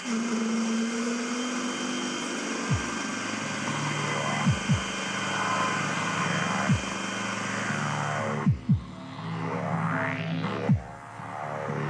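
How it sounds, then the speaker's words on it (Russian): A scroll vacuum pump is switched on to evacuate a sample chamber in a lab. A steady, droning hum with a tonal whine runs throughout, marked by occasional brief sweeping chirps. "Для этого мы включаем сначала скролл-насос, который располагается здесь."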